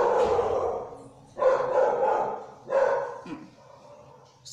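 A dog barks in three loud, close bursts spaced about a second apart, with a softer fourth sound at the end, in an indoor crafts setting where resin jewelry boxes are being made.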